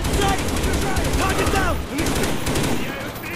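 Dense automatic gunfire in a Call of Duty: Black Ops firefight, loud and continuous rattling with overlapping weapons, voices shouting underneath the shooting.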